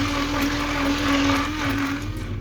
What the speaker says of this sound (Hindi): आप इसको ग्राइंड भी कर लें हैंड बीटर के साथ।